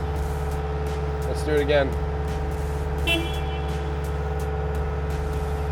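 A skid steer engine runs at three-quarter throttle, giving a steady, loud tonal drone with a low hum. Someone speaks briefly over it.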